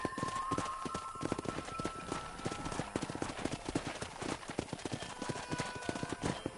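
Horse hooves clip-clop in a quick, steady rhythm close by in a video game, with faint voices and musical tones in the background.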